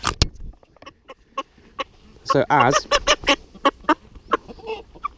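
A young cockerel squawks and honks in short agitated bursts while being handled for leg ringing, close by, with handling noises and someone talking briefly.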